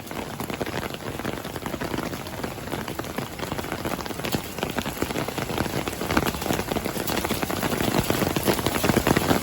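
Torrential rain pounds down in Mirpur near the Rathoa Haryam Bridge, a dense, loud, continuous hiss of drops on surfaces that grows heavier toward the end, with no voices.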